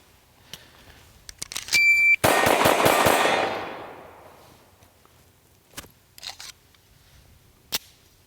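A shot-timer beep, then five rapid, loud shotgun blasts from a SAR USA K12 Sport at steel targets about ten yards away, fired within roughly a second and trailing into a fading echo, followed by faint handling clicks.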